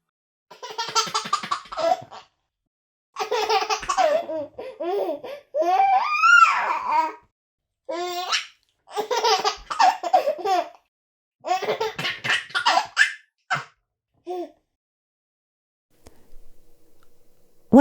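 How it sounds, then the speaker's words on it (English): Recorded baby giggles and belly laughs come in repeated bursts of delighted squeals and babbling, close and clear, separated by short silences, with a faint sound at the very end. "What happened when you heard these baby giggles?"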